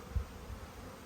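Honey bees hum on a hive frame during a beekeeper's inspection for mites, a close, continuous low drone with a couple of soft thumps.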